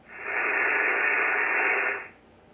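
Static hisses from an Icom IC-7300 radio receiver, a steady broadband rush that swells up, holds for about two seconds, then drops away, with no talk.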